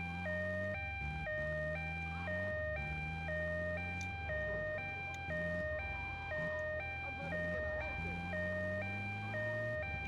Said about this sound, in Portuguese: É a ambulância besta.